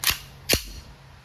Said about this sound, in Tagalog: Colt M45 CQBP, full metal, air gun pistol.